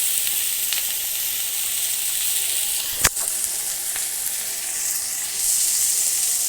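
Fresh spice paste (masala) sizzles and fries steadily in a pan in a village kitchen, a continuous close hiss with one sharp clack around the middle and a slight swell near the end.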